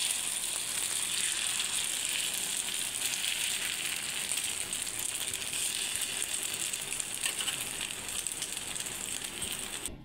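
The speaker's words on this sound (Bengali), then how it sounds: "এইভাবে ডিমটাকে চালিয়ে দেবো।" Egg sizzling and crackling steadily in a hot frying pan, a continuous bright fizz of frying with small popping ticks, close and fairly loud throughout with no talking.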